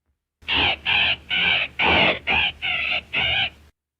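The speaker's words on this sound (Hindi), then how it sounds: "और ये तोता क्यों चीखें मार रहा है?" A parrot screeches in seven loud, harsh calls in quick, even succession, each a short burst with brief gaps, heard alone with no voices.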